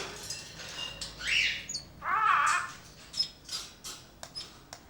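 Captive birds in an indoor aviary let out several loud, harsh squawks between softer chirps and rustling, with no talking.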